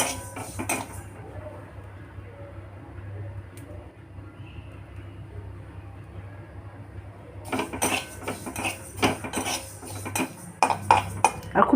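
Chia seeds dry-roasting in a pan give a faint, steady crackle under a low hum, joined later by louder, close scraping and clinking of a utensil against the pan.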